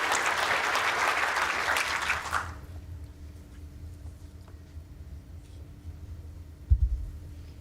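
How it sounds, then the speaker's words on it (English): An indoor bowls crowd at a world championship match breaks into a short, fairly loud burst of applause that stops after about two and a half seconds, leaving a quiet hall with a low hum and one dull thump near the end. "Smattering of applause for that."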